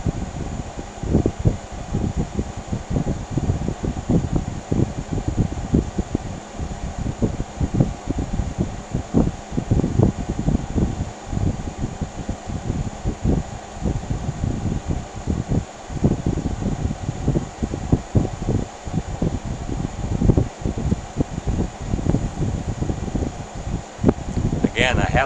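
A 6000 BTU off-grid air conditioner with a soft start runs outdoors in Arizona, producing a steady fan hum and airflow rush with a faint high whine throughout, interrupted by brief bumps and handling noises.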